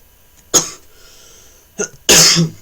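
A few harsh coughs close to the mic: one short cough, a smaller one, then a louder, longer hacking cough at the end.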